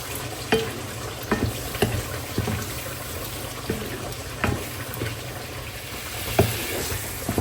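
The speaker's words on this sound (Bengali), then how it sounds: "চিংড়ি মাছটা কিন্তু সুন্দর মতো কষা যাচ্ছে কোনো লাল টুকটুকে" Prawns frying in a pan, a low steady sizzle with periodic sharp clinks and scrapes of a spatula stirring, evenly spaced and close, no talking.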